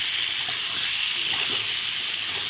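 Pointed gourds (potol) fry in a pan with salt, giving a steady, even sizzle that holds constant throughout, close and moderately loud, with no talk.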